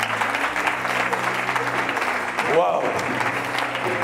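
A church congregation at an Easter service claps and cheers for Jesus, a steady wash of applause with a voice shouting out an exclamation partway through.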